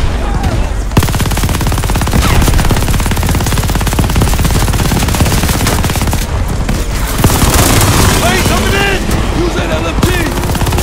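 Sustained automatic gunfire and rapid bursts in the Call of Duty: Vanguard campaign, loud and nearly continuous, with booming impacts and shouted voices mixed into the dense battle noise.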